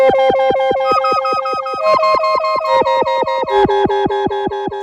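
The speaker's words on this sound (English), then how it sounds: "So that was filter, that was a feedback sound." A Teenage Engineering OP XY synth plays a filtered feedback patch modulated by an LFO, repeating bright, pulsing tonal notes in a steady rhythm, loud and alone.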